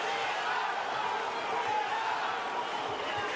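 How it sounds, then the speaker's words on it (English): Boxing crowd at a Marco Huck heavyweight fight, a steady broad roar of cheering and chatter filling the arena, loud and continuous without a clear break. "Crowd trying to raise Huck"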